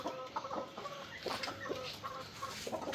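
A tiger breed rooster on a rooftop farm in Rajshahi gives soft, repeated clucks in short irregular bursts, heard fairly faint and close, with no talk.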